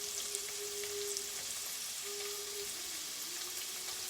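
Chopped onion frying in a saucepan for a sugar bean curry gives a steady, close sizzle that holds at an even level throughout, with a faint tonal hum beneath and no talking.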